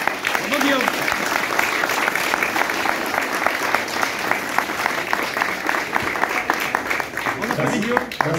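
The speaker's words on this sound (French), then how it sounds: "Applaudissez Fred Allais," Audience applause at a local political list presentation, loud sustained clapping from a crowd that continues evenly throughout, with voices mixed in beneath it.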